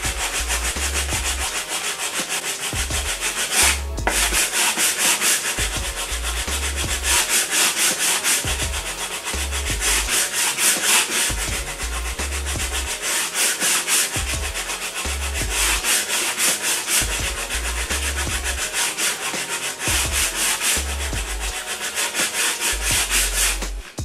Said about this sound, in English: I have my little sanding board, and I'm just gonna try to shave it down to get to that point